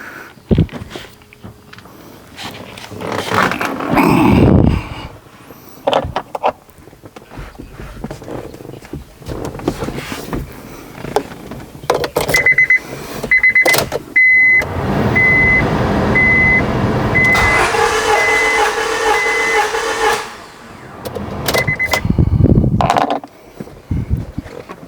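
A 2004 Honda Civic 1.7L engine cranks on its starter during a compression test, a loud churning mechanical whir in repeated bursts, with a steady electronic beeping chime sounding partway through.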